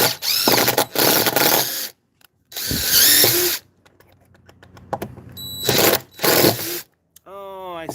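Power drill driving overlong screws in bursts of whirring, several short runs separated by pauses, loud and close, with a person talking between runs.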